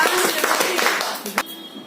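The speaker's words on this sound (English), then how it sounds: "Everybody clap for Ojasvi. Big claps." An audience claps for a student at a school Independence Day celebration, a brief burst of close hand claps mixed with voices talking over it.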